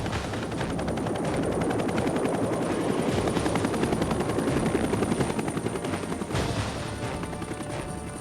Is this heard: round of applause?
no